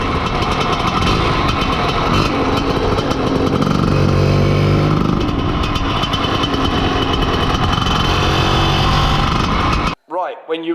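Lambretta TS1 scooter fitted with big carburettors, running on a test run at a steady loud buzzing drone for about ten seconds before cutting off abruptly, followed by a brief quiet voice.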